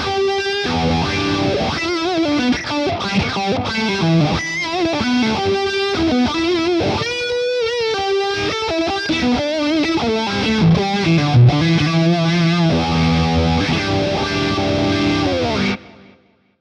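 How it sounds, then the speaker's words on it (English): Electric guitar through a Boss Katana amp patch with an auto-wah effect, played alone as a continuous melodic phrase with sweeping filtered tone, steady and loud, then stopping abruptly at the end. "Now, this uses an auto-wah,"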